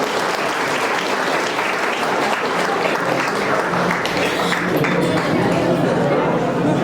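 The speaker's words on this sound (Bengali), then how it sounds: "একবার জোরে হাততালি দিয়ে আজকের অনুষ্ঠানের শুভ সূচনা হোক" An audience at a Bengali cultural forum's International Mother Language Day celebration in Balurghat claps loudly and continuously, a dense wash of applause with faint chatter underneath.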